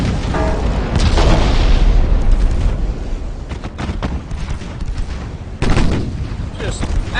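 High-explosive shells fire and burst in a naval warship battle game, loud booms and sharp cracks landing in several clustered hits over a rumbling background.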